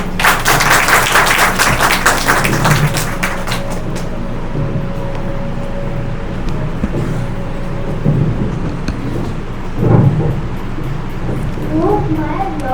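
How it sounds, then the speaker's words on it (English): At a school show and tell with a birds theme, an audience claps for young children, a loud burst of applause in the opening few seconds that quickly gives way to a voice and room noise. "So kindly bear and give them a good clap."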